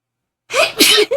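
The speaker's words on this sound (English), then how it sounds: "I have a sneeze coming through now." A single sharp sneeze, close and loud, with a quick inhaled build-up just before the burst.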